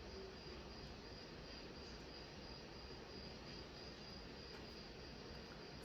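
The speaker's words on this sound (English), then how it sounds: "Sounds like a cricket to me." Crickets chirp in a continuous, faint nature-sounds recording played on an Alexa speaker, with a dense hiss throughout that may also carry soft rain.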